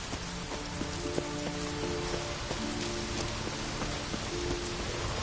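Steady rain drizzle in the video game The Witcher 3, a dense, even patter of drops on surfaces that runs throughout under faint game music tones.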